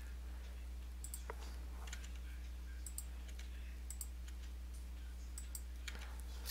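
Sharp computer mouse clicks and Tab key presses on a keyboard while working in a word processor, a steady series of light ticks spaced about a second apart over a constant low electrical hum.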